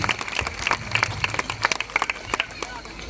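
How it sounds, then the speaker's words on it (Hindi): Audience clapping at an outdoor Hindi poetry gathering (kavi sammelan) in Nawada, a scattered round of hand claps with sharp irregular peaks, fairly close and moderately loud over a low background hum. "तो एक बार आपकी तालियां आ जाएं।"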